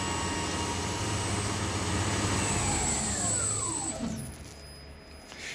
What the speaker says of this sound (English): Let's turn the test bench off.